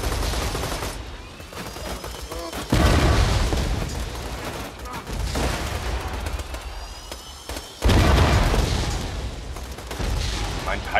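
Two heavy booming explosions in the video game Borderlands 2 burst out over a constant crackle of gunfire-like noise and rumbling effects.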